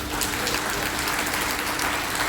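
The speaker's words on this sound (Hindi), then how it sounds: "आप खड़े जो लोग हैं उनके लिए एक जबरदस्त ताली बजा दो।" A hall audience at a large event in Gorakhpur applauds, a dense, steady wash of many hands clapping without a break.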